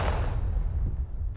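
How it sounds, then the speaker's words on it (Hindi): A single gunshot in a TV drama starts with a loud boom, then a heavy low rumble trails off over about a second before a brief sharp sound at the end. "गोली चल गई, गोली चल गई"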